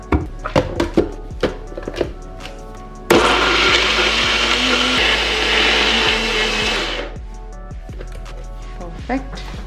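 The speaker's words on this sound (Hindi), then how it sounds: "और अब इन सबको हम अच्छे से ब्लेंड करेंगे" A kitchen blender churns a thick mixture in one sustained burst of about four seconds, loud and close, framed by scattered knocks and handling clunks before and after.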